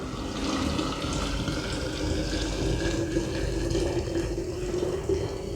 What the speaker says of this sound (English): So I'm gonna just pour the hot water into the jar.